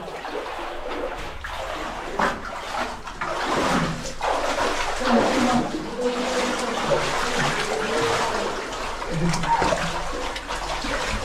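Steady rushing of running water, close and continuous, with faint bird calls and occasional voices in the background.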